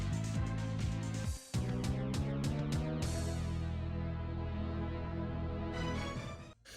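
Battle music from the video game Legend of Dragoon moves into its breakdown section, with a dense, rhythmic instrumental texture of punchy hits that gives way to sustained tones and fades at the end.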